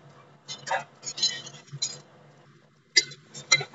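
A spoon clinks and scrapes against a pan while ginger-garlic paste, coriander paste, curry leaves and a bay leaf are stirred for a mixed vegetable curry, with short bursts of metallic tapping separated by brief pauses.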